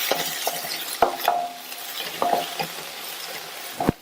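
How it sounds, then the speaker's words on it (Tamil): A medium-size onion sizzles softly in a pan over a low flame, with a spoon stirring and clinking against the pan every second or so. "இந்த வெங்காயம் ஒரு நிமிஷம் போல சிம்லையே வதங்கட்டும்."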